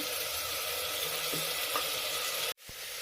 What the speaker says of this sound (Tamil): எல்லாம் போட்டு வதக்கிக்கலாம்.